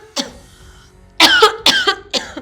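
A woman coughs in a tense domestic scene: one sharp cough, then a pause, followed by a quick cluster of four harsh, close coughs with a throaty edge.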